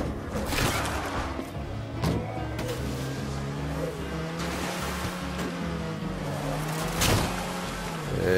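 A car engine in State of Decay 2 revs steadily while the vehicle is stuck on a tree, a sustained droning whine with rising and falling pitch and a few knocks, no voices.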